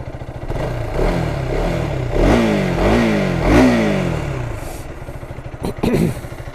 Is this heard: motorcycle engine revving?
yes